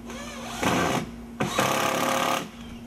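A power driver runs screws into pre-drilled wall studs during a window header install, giving two or three short whirring bursts with brief pauses between them, close and fairly loud.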